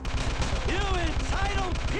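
Rapid, rhythmic gunfire rattles continuously in the mobile game GTA V, with a voice speaking over the shooting.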